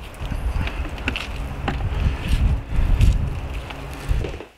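Wind blows hard across the microphone in rough, rumbling gusts that swell and fade, loud and close, with no talking.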